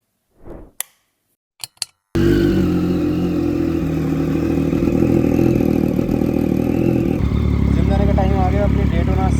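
Motorcycle engine starting after a few short clicks and taps, then settling into a loud, steady idle that runs continuously as it warms up, with a slight change in tone near the end.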